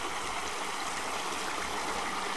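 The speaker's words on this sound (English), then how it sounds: "There's where the water is coming out." Water rushing steadily out of the drain of an emptied spring-fed farm pond, a loud, continuous close-up gush with gurgling and no talk.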